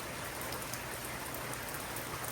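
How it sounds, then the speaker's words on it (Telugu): Dense, even rain pours down without letup, a continuous wash of drops on surfaces with no voices. "చూసారా బయట ఎలా వర్షం పడుతుందో"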